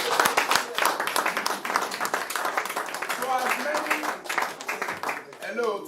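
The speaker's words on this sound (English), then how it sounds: "I want us to give a round of applause to all of us." Scattered, uneven clapping from an audience at a cooperative society election meeting, mixed with crowd voices and chatter throughout.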